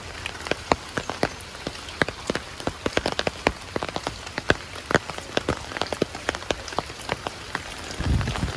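Steady rain falling, with many distinct drops pattering close by on a hard surface; no voices.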